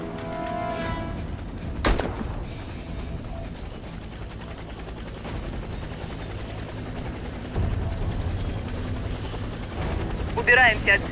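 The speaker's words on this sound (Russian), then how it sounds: "Вертолет доставит вас на базу." Military helicopter from the Warface shooter game, its steady rotor drone and engine whine running throughout, with a sharp loud burst near two seconds and brief gunfire-like crackles toward the end.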